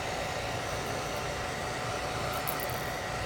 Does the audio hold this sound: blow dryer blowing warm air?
yes